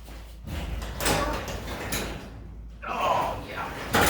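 A Torquemaster garage door with a broken torsion spring is heaved upward by hand, giving rattling, scraping door and track noises in bursts, with a sharp clunk near the end and a voice talking over it.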